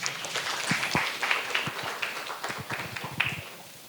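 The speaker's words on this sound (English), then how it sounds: "All right, round of applause for Prabal." Applause from a conference audience at a talk, a dense patter of many hands clapping steadily for about four seconds at moderate level, with no voices over it.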